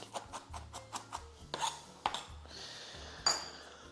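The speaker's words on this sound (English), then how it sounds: "Once we've got our white onion all diced up" A knife dices a white onion on a cutting board in a home kitchen, with a run of quick, close chopping taps followed by a few sharper knocks and a brief scrape.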